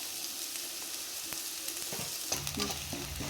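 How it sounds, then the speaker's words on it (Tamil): Chopped onions sauté in a pan for a dhaba-style potato curry, a steady soft sizzle running underneath while a spoon scrapes and stirs intermittently, the stirring growing busier toward the end. "நல்லா இந்த ஆனியன் நல்லா ஃப்ரை ஆகிற வரைக்கும் வதக்கிக்கணும்"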